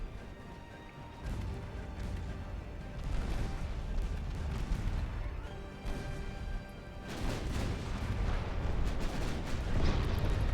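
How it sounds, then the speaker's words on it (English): Heavy naval gunfire from battleships' 10-inch guns in the naval strategy game Ultimate Admiral Dreadnoughts, a dense rumbling barrage of booming shots and crashing impacts that keeps building, loud and continuous throughout. "Yeah, these 10-inch guns are doing really good."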